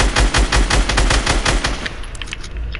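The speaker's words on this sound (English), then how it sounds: "I'm getting sniped!" Rapid bursts of sniper and automatic gunfire in an online shooter video game, loud and close, firing in quick repeated volleys before easing into quieter distant shots near the end.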